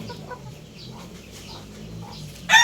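Chickens in a small backyard coop give soft, scattered clucks at a slight distance, then a sudden louder squawk right at the end.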